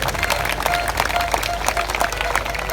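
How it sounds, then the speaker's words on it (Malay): Crowd applause at a PKR political rally in Pandan Indah, Malaysia: steady clapping fills the whole stretch, dense and continuous, with voices mixed in. "Jadi tepukan kepada saudara Syukri"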